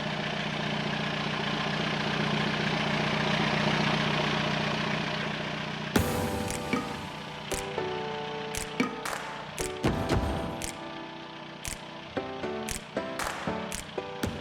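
A boat engine running in reverse at about half throttle while at anchor, under load: a steady low rumble at first, then a rougher stretch broken by irregular clanks and knocks, with no talking.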